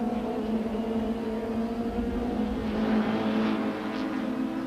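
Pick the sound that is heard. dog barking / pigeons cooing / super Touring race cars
super Touring race cars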